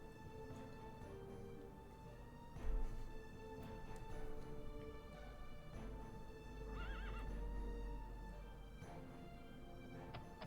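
A horse in a video game whinnies loudly while its hooves clip-clop steadily underneath, all fairly close and continuous.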